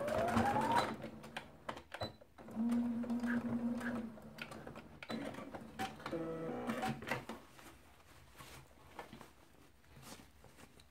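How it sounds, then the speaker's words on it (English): A domestic sewing machine runs in short spurts, stitching fabric down several times to hold it in place, its fast needle rattle fairly faint and close, pausing between passes. "I'm just going to stitch it down. I'll stitch it several times to hold it in place."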